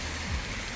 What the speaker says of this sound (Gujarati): પહેલા તો વરસાદ ચાલુ થઈ ગયો